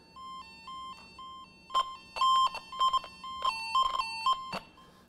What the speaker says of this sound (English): you can hear that beeping signal in here